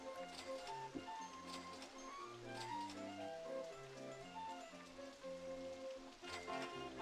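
Steady rain patters in RollerCoaster Tycoon on Xbox, soft and continuous beneath a looping melodic game music track.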